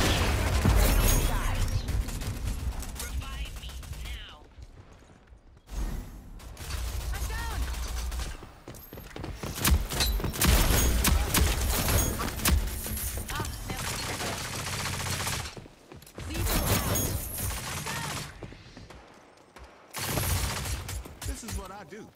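Rogue Company gunfire on The Palace map: sustained automatic bursts, loud and dense, broken by short pauses, with a voice talking over the shooting.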